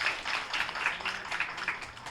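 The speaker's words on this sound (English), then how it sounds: "a huge round of applause for team 2" Brief round of clapping from an audience at a medical quiz, a dense patter of many hands heard alone for about two seconds.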